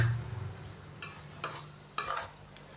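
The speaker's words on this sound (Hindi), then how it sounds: "मैं चिकन के कीमे की 5 से 7 मिनट के लिए अच्छी तरह भुनाई कर लूँ" Chicken mince being roasted in a pan for a lobia bean keema, a soft low sizzle broken by three or four brief scraping stirs of a spoon, fairly quiet and close, with no speech.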